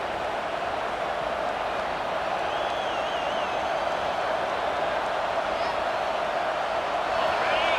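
Football game crowd rising to life as the home fans try to help the defense get a stop, a dense, steady roar of many voices with faint whistles, under a commentator talking throughout.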